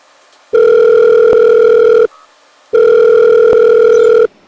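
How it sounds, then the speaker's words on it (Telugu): A telephone ringback tone sounds as an outgoing call rings, with two long, loud, steady buzzing tones separated by a short pause. "వాళ్ళ నెంబర్ కూడా తీసుకున్నాను, ఒకసారి కాల్ చేసి మాట్లాడదాం."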